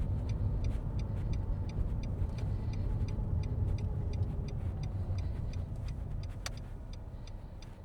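A car on a driving test rolls along with a low steady engine and road rumble, a regular ticking like an indicator over it as it eases to the left to pull over, no talk.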